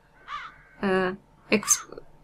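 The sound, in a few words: crows cawing in The Dark Eye video game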